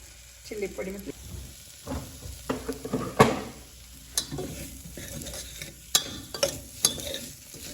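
Masala with coriander and chili powder is stirred in a pan, giving soft intermittent scraping and light sizzling with scattered spoon clicks against the metal, fairly faint and close.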